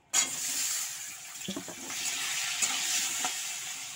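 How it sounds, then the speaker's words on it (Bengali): Fish sizzling steadily in hot frying oil, a continuous bright crackle close by with a few louder spits and bubbling bursts along the way. "দেখো তেলটা গরম হয়ে গেছে, এবার আমি মাছটা দিয়ে দেবো।"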